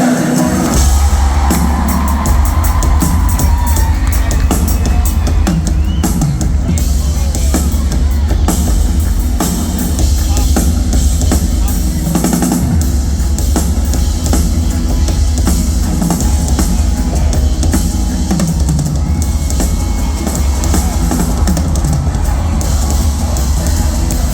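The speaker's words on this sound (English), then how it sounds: "One more huge round of applause to all of the incredible musicians up here tonight" Concert crowd at a show in Philadelphia cheering, whooping and clapping, a loud sustained roar of many voices with scattered shouts running the whole time.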